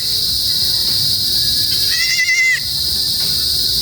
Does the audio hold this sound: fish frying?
no